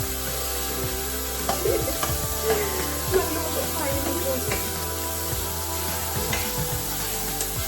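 Food sizzles and fries steadily in a pan in a home kitchen, with occasional stirring clatter and a constant hiss running through the whole stretch, while people talk quietly in the background.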